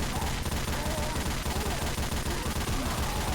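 Heavy machine gun fire from a LEGO zombie video game rattles in a fast, unbroken stream of loud, evenly spaced shots that fill the whole stretch.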